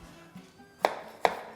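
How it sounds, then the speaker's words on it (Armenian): Two sharp knife chops on a cutting board as an onion is cut in a kitchen, spaced about half a second apart, close and crisp, with a quiet tap before them. "Ես կկտրատեմ սոխը"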